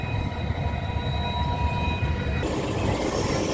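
A passenger train rolls along on an East Coast Railway route, a WDB 4D diesel locomotive nearby, with a steady broad rumble of wheels and carriage noise and thin high tonal whines, continuous throughout.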